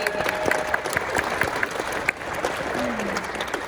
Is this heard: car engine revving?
no